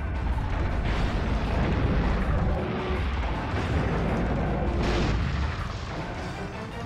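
Tank cannon fire in the video game Dino Crisis 2: a steady barrage of heavy, rumbling booms and blasts, loud and continuous, with no voices.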